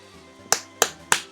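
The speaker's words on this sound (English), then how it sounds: "That was me hitting my forearm." A hand slapping a forearm three times, sharp close smacks evenly spaced about a third of a second apart over a faint musical background.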